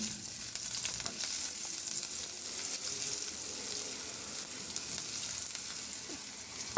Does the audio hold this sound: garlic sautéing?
yes